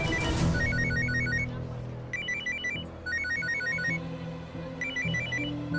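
An incoming-call phone ringtone plays in repeated bursts of bright electronic tones, close and clear over faint room background.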